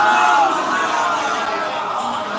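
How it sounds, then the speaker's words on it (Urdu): A crowd at a poetry gathering raises loud shouted slogans to welcome a poet, a dense, sustained roar of many voices close and full throughout. "آپ حضرات ان کے استقبال کے لیے میوزک کے باوجہ بلند نعرے سلام بھیج دیں"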